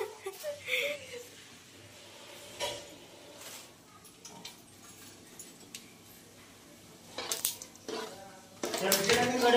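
A kadhai and pots are handled in a home kitchen while poha is cooked: metallic clanks and scrapes come in scattered bursts, with a loud cluster of clatter at the end, under intermittent talking.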